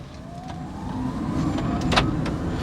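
A Tata Tiago EV electric car pulls away in drive mode, its motor giving a soft rising whine over road and tyre rumble that grows steadily as it gathers speed.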